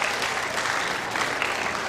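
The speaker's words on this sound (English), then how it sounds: "Round of applause, huh?" Steady applause from a school audience at a presentation in a gym or hall, many hands clapping in a continuous, even wash for about two seconds.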